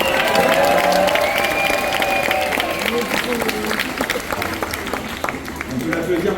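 An audience at a real estate convention applauds Nathalie after her testimony, with clapping and some cheering rising beneath a tonal backing sound that fades as the applause continues.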